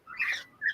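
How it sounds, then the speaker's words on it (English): Two bright, high bird chirps, the first a longer twittering call and the second a short tweet, close and clear with no talking. "I wonder what the bird is saying."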